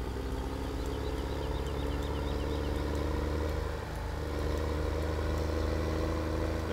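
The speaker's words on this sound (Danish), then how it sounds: "så man bare tydeligt høre motoren" A vehicle engine idles in the winter snow of the Farming Simulator 2017 game, a steady low mechanical drone with a faint rhythmic clatter, continuous and unbroken with no talking.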